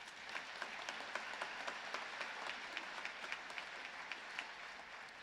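A graduation audience claps for foundation board members, a soft, distant, steady patter of many hands without speech.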